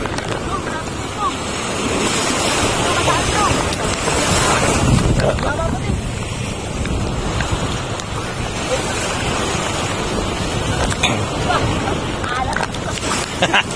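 Strong seaside wind buffets the microphone in a constant loud roar over crashing surf at a fishing shore in Dinahican, Infanta, with a voice talking faintly through the gusts.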